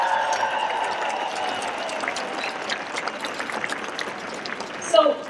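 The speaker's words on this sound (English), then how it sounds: "let's give a round of applause for them" Applause for the San Francisco Police Department from a crowd at a 2016 event, a steady wash of clapping lasting several seconds and fading slightly, with a louder burst near the end.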